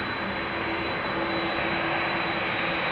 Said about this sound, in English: I hear the engines of an A330.